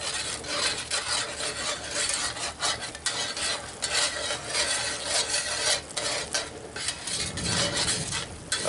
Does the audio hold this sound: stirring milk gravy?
yes